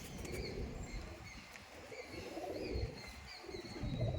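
Madrasi pigeons coo softly in low, rolling bursts against a steady background hum, with a few faint chirps from other birds. No voices are heard.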